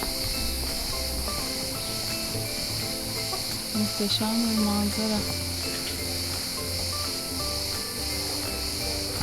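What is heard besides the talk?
cicadas chirping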